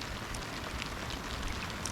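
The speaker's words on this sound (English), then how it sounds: "It's raining." Rain falls on a lake around a kayak during bass fishing, a faint, steady hiss of drops with scattered soft patters, no talk.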